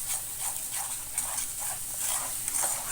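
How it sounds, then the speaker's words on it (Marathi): Masala roasting in a pan for a potato sabzi, a continuous soft sizzle with repeated scraping strokes of a spatula at a steady rhythm, close and moderately loud with no talking. "आता मसाला भाजून घेऊया"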